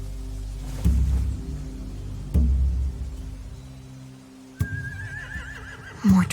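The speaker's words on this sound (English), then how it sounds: "They have horses." Horses neigh and whinny several times with pauses between in the video game The Walking Dead: The Final Season, a long shrill whinny near the end over a low background hum.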